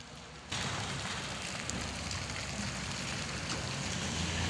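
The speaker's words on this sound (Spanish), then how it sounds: "Miren nomás que está lloviendo ahorita." Rain falls on a town plaza in a mountain mining village, a steady dense patter and wash of drops that starts abruptly and continues evenly without voices.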